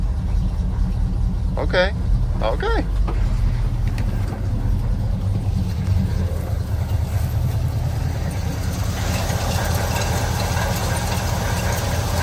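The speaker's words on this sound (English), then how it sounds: "I gotta find out which one of those things is squealing like that" Engine of a square body truck idling with a low steady rumble, a brief high squealing belt chirp wavering early on, and someone speaking briefly.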